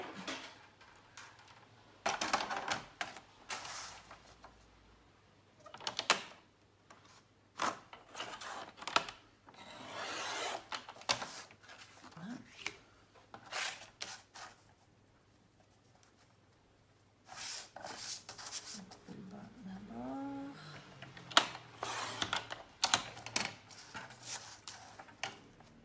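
Scissors cutting paper for a handmade flipbook: bursts of rasping, scraping snips in irregular clusters separated by quiet pauses, close and fairly soft, with no talk.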